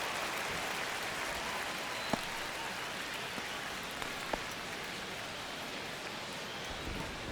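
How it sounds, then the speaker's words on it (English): Steady rain hisses down over a ballpark during a baseball game in MLB The Show 25, an even wash of falling drops with a couple of sharper isolated drip ticks, fairly quiet and without speech. "It feels like we might be headed towards a rain delay if the weather doesn't ease up, Chris."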